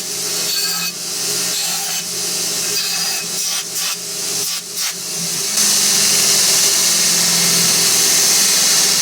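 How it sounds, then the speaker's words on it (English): A power tool deburrs steel parts for a fabricated Victorian-style garden bridge. The loud, continuous abrasive grinding roar dips briefly a few times, then swells to a steadier, harsher pitch partway through. "just deburr that"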